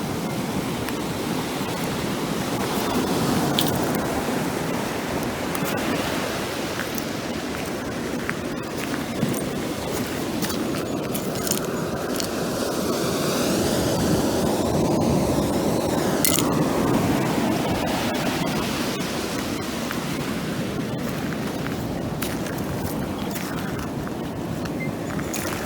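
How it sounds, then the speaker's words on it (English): Ocean tide waves wash up onto beach rocks near a shell pile, a steady broadband rush of surf and churning water that holds loud and continuous throughout, with no voices. "the tide is coming up onto the rocks here"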